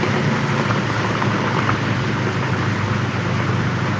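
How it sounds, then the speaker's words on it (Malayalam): Heavy rain pours down in a steady, dense roar of broadband hiss, unbroken and loud throughout. "ഇപ്പം മഴ പെയ്യുന്നത് ആൾക്കാരൊക്കെ കുട പിടിച്ചു നല്ല മഴയാണ്"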